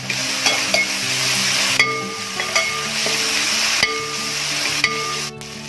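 Onions sizzle steadily in a pan with ginger, garlic and green chilli paste, a loud close fry punctuated by spoon stirs and scrapes for a Kerala-style beef kabiri biriyani.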